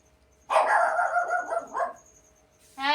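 A dog barks loudly and close by in a short burst in a village, then a brief quiet, then another sharp bark starts at the end.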